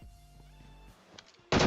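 Gunfire in the battle royale game PUBG Mobile comes as a sudden loud burst near the end, following a quiet stretch of faint in-game ambience and soft thuds.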